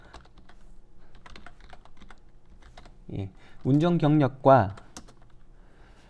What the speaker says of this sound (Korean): 제가 이렇게 타자가 느립니다.